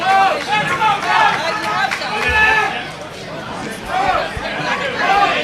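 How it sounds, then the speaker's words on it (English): Crowd at a Brazilian jiu-jitsu super fight, a dense babble of shouting and chatter with rising, excited voices, loud and continuous throughout. "Crowd are on their feet for this one right now."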